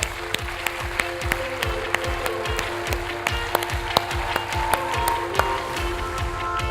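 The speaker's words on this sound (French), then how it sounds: "On les applaudit tous les 3." An audience applauds as three guests, including a sales director, are invited up to join the stage at a French business talk on customer experience. The clapping is steady and sustained, with sharp individual claps standing out over a constant hum.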